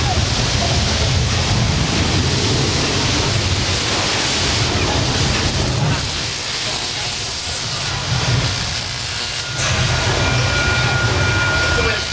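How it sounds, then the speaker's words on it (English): A loud, steady low rumble with broadband roar fills the whole stretch, like a subway car rolling past, dipping slightly midway before surging again, on the 1998 Universal Studios Hollywood backlot tour. "Sounds like a subway car."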